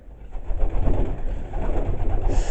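Pigeons coo in a loft where breeding females sit on nests, a close, continuous low warbling with overlapping soft calls.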